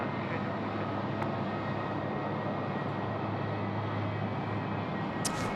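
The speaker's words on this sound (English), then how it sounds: "AirAsia is got out under the darkness there, is now taxiing along Alpha." An AirAsia Airbus A330-300 airliner taxiing at Sydney Airport at night, a steady broadband engine roar that stays loud and unbroken throughout, with no talk over it.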